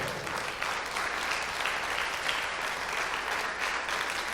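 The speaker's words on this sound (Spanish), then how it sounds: "denle un aplauso al Señor" A church congregation applauds steadily, a dense wash of hand claps holding at an even level from start to finish with no voices standing out.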